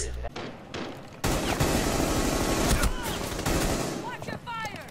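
Rapid bursts of automatic gunfire and booming shots in a bomb-defusal video game, loud and dense, with an opening blast, a brief pause, then sustained volleys.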